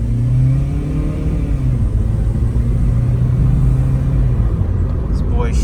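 An Acura RSX bought at an auto auction accelerates and shifts through gears. The engine rumbles steadily up close with pitch changes as it revs, while a voice talks over it.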